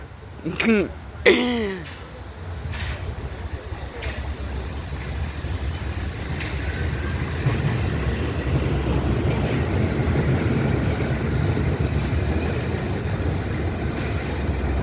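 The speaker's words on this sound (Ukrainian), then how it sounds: "Трамвайчик" A brief voice up front, then a suspended monorail car runs with a steady low rumble and whir that builds and holds.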